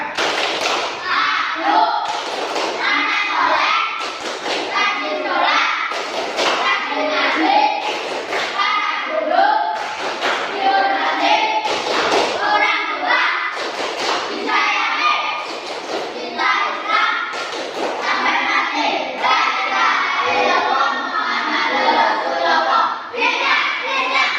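Children chant together in rhythm while clapping, loud and close, with repeated claps and thumps punctuating the group voices.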